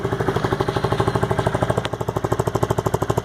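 A Honda Grom motorcycle with a titanium exhaust and its baffle fitted runs at a steady idle, giving a rapid, even, fairly quiet pulsing beat from start to finish.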